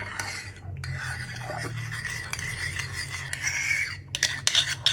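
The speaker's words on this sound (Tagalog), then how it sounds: "Haluin natin." A spoon scrapes and stirs a dipping sauce of mayonnaise, ketchup, Worcestershire sauce, salt and pepper in a bowl, giving a close, continuous rasping swirl with a few sharper clinks near the end.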